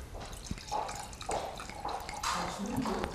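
Dry Riesling Kabinett white wine from Deidesheimer Kieselberg being poured into glasses, a few short splashing glugs of liquid trickling in bursts, fairly faint, with people talking nearby.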